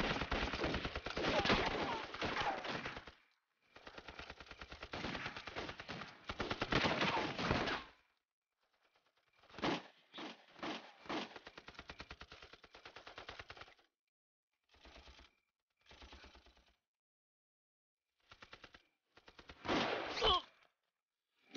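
Battle scene in a Chinese anti-Japanese war action film, with long bursts of rapid machine-gun fire and scattered single gunshots coming in waves separated by short pauses, moderately loud and with no talking.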